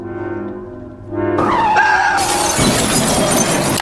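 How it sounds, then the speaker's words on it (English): An edited fake car crash: a low hum jumps into loud tire skidding and screeching, then a harsh burst of shattering glass and crunching impact noise fills the rest, close and loud. "Someone made an edit of me to make it look like I got into a car crash"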